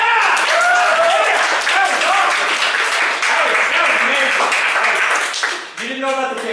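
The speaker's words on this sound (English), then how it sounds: "Fast clap, yelling, hoot and hollering" A small group claps fast and cheers, with loud yelling and hooting mixed into the applause and voices shouting throughout.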